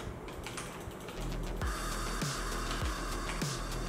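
Keystrokes on HP GK320 and Cosmic Byte Pandora CB-GK-26 mechanical keyboards during gaming play: dense clicking keys over steady game audio with low thumps, continuous and fairly loud.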